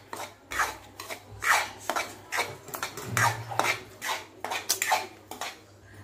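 Semolina roasting in ghee in a pan on medium-low gas, a spoon scraping and stirring in repeated rasping strokes, close and fairly loud with a faint low hum beneath.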